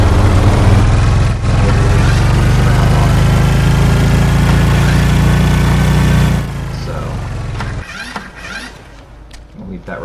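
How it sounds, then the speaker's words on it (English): A motorboat engine idles in the survival game Stranded Deep, a loud, steady low rumble that runs for several seconds, then drops away to quieter ambient sound. "So that's the motorboat."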